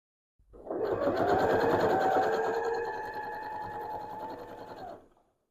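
A sewing machine quilting straight lines through layered fabric runs steadily for about five seconds, a fast continuous mechanical whir that swells in and trails off, close and alone with no talking.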